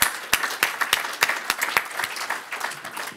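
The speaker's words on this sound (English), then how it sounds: "Round of applause for Glyn." Applause from an audience at an Intelligent Quarrying 2015 awards presentation, honouring the runner-up from Darrington Quarries: a steady wash of many hands clapping, with a few sharper individual claps standing out, sustained throughout.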